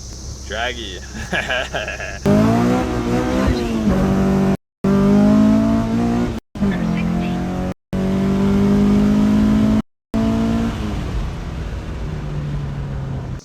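A car engine revs and accelerates in the racing video game Assetto Corsa, with repeated rising gear pulls broken by short gaps, and someone talks over part of it.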